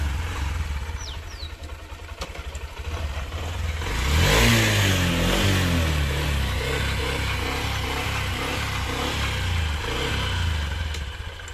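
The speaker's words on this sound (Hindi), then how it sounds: "अभी एक्सीलरेट करो।" A 2021 Honda Livo BS6 motorcycle engine idles steadily, then revs up sharply with a rising roar about a third of the way in before settling into a strong, throbbing high idle. The engine sounds close and loud throughout.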